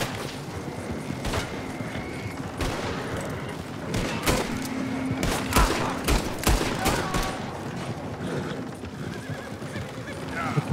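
Enemy gunfire crackles in sharp bursts during a horseback chase in Red Dead Redemption 2, mixed with galloping hooves and horse whinnies, with scattered shots throughout and talk over the action.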